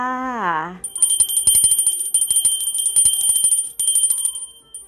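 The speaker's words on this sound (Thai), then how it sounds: "เสียงนี้นะคะเป็นเสียงกระดิ่งกลิ้ง กลิ้งกลิ้งกลิ้งนะคะ" A small hand bell rings, calling viewers to look at jade necklaces and 108-bead prayer strands: a quick run of bright, metallic tinkling strikes right after a short spoken phrase, loud and close, fading at the end.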